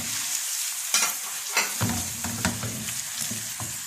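Orange pieces sizzle in a pan while being stirred for homemade orange candy, with a steady frying hiss broken by several scraping, clinking spatula strokes.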